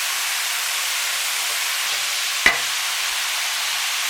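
Spaghetti bolognese sauce with fresh garlic being stirred in a pan, a soft continuous hiss of simmering with one brief sharp knock of a spoon or utensil partway through.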